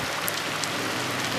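Heavy rain pours during a thunderstorm in Kimovsk, a steady, dense hiss of drops hitting surfaces that holds unbroken throughout, with no voices.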